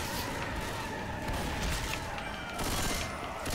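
Sustained gunfire in the Left 4 Dead 2 zombie shooter, a dense, continuous roar of rapid shots with no clear gaps, loud and steady throughout.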